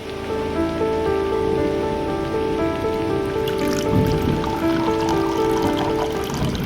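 Steady rain taps against a window in an even, continuous patter, close and moderately loud, with soft sustained musical tones underneath.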